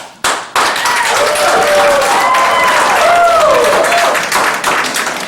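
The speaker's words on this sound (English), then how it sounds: "there was a rousing round of applause, as you just heard" Public-comment applause at a Bamberg County council meeting: a crowd claps in a loud, sustained round after a brief opening burst, filling the room without speech.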